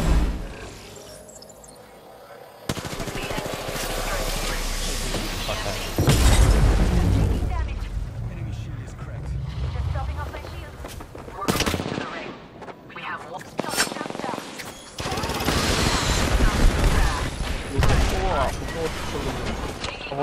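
Weapon fire in the battle royale shooter Apex Legends, loud bursts and heavy blasts in uneven clusters across the clip, with players talking over the shooting.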